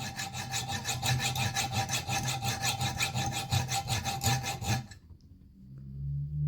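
Hacksaw with a brand new blade cutting into a hard steel wheel bearing from a Peugeot 207, a fast, regular rasping of back-and-forth strokes, close and loud, stopping abruptly near the end.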